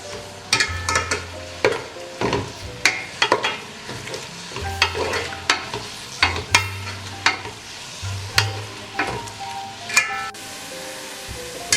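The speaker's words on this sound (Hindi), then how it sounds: "1 कप ऑयल लेके उसके अंदर मैं प्याज लाल करूँगी" Onions fry in a cup of oil for spicy beef biryani, a continuous sizzle broken by frequent sharp scrapes and clinks of a spoon stirring the pan, with short low hums between strokes.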